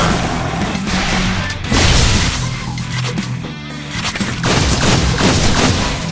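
Loud, dense gunfire and crashing blasts from the video game Contra Returns, with repeated shots and bursts running almost continuously and one brief lull midway.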